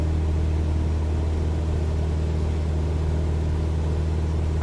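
A Cessna 172 engine at full throttle in flight over Alaska drones steadily and loudly, a constant low hum with no pauses or talk.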